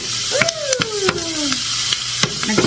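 Ginger and garlic sautéing in a pan, a steady sizzle with sharp utensil clacks at intervals and a brief sliding whistle-like tone partway through.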